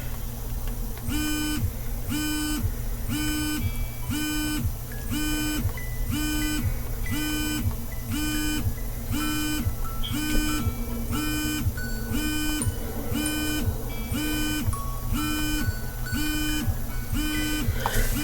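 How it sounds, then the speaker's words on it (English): An alarm clock beeping at 7 o'clock, a steady repeating pattern of short beeps over a constant background hum, continuing throughout. "And that's the alarm."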